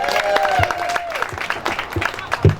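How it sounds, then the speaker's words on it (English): Comedy club audience applauds and cheers at a show's opening, a dense burst of clapping close by with a voice speaking over it. "Give yourselves a round of applause for coming out tonight."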